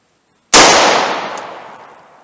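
A single loud .38 Special revolver shot fires a Buffalo Bore TAC-XP 110 grain full copper round, a sharp close crack that decays into a long echoing tail.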